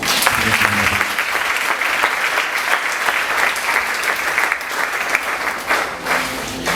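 A church congregation at a worship service claps loudly and continuously, a dense sustained applause from a large crowd close around.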